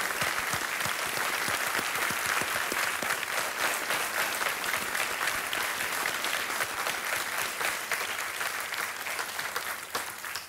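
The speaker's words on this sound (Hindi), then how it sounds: "हम ताली बजाएंगे आपकी।" Studio audience on the Kaun Banega Crorepati set breaks into sustained, dense applause, steady and full for several seconds before tapering slightly at the end, heard alone without talk.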